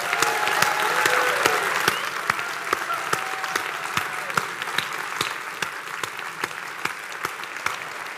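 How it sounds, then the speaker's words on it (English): Applause from a conference audience after a talk, starting as a dense, full round of clapping that thins out into a few scattered, evenly spaced single claps. "I'd like you all to give them a rousing round of applause"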